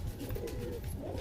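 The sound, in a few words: pigeon cooing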